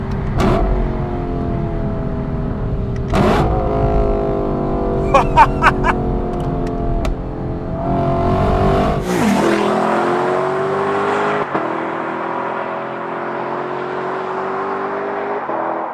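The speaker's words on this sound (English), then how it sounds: "And just listen to the downshifts." A 2020 Lexus LC 500 V8 engine revs hard and then drops through several quick downshifts, with sharp crackles between the revs, followed by a steady drone as the car cruises.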